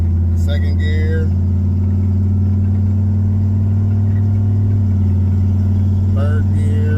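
A turbocharged Chevrolet Caprice engine pulls hard in second gear, a loud steady drone close inside the car, with brief voices over it.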